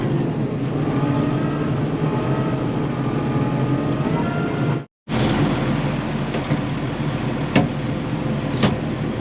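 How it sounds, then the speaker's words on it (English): A tractor drives along a road, its engine giving a steady, fairly loud drone with a low rumble, briefly cut off midway before resuming, with a couple of sharp clicks near the end and no talking. "I love my tractor."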